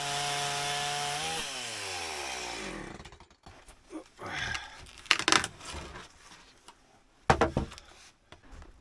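A chainsaw ripping a log lengthwise into boards roars steadily with falling pitch for about three seconds, then cuts out, leaving scattered knocks, scrapes and clatter of wood outdoors in a snowy winter forest.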